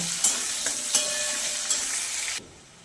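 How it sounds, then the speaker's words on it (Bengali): Chopped medium onion fries in a pan with a loud continuous sizzle and several metallic spatula taps, then the sound drops away abruptly near the end. "পেঁয়াজগুলোকে ভালো করে ভেজে নেব"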